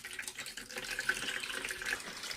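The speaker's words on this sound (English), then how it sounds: "I'm taking it under the water, tap water again. So let the water run across." Lukewarm tap water runs steadily over an 8-inch Soligor MT-800 Newtonian telescope mirror, a soft, continuous splashing hiss at low volume with no talking.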